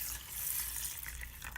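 Water pours over urad dal set to soak, a steady soft splashing and trickling stream at moderate distance with no voices.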